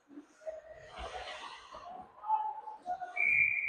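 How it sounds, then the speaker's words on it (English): A referee's whistle sounds during an ice hockey game, a short shrill blast at the end amid arena murmur and a voice talking underneath. "Well, the whistle here with 8:59 remaining in the second period."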